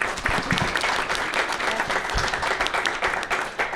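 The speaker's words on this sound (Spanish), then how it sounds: "Pedirles un fuerte aplauso, por favor," Audience at a Spanish-language journal presentation at a book fair breaks into sustained applause, a dense even clapping from a crowd filling the room for several seconds.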